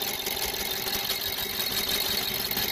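A BMW N43/N53 petrol engine with piezo injectors, one injector faulty, runs fully warmed up at a steady idle, close and continuous with a dense, even mechanical hum and fine ticking texture.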